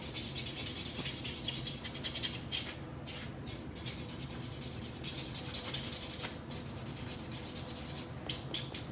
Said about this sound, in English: I angle the purple side of the buffer where the cuticle is to kind of smooth it out